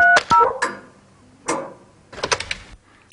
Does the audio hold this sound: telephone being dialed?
yes